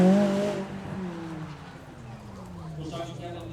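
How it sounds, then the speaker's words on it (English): A McLaren Spider with its V8 engine running at a supercar weekend demo, a fairly steady engine note whose pitch slowly falls, with a brief rise near the end and an announcer talking over it. "McLaren spider that roof down so you can hear that glorious V8 right in the middle of the car seat"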